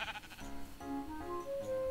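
Sheep bleating in the Minecraft video game, a few short wavering cries close by, one after another with no talk over them.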